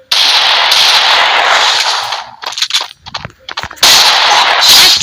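Rapid gunfire in the Free Fire mobile game rattles in a loud, dense stream, breaks into choppier scattered shots midway, then surges back into a sustained barrage; no talking.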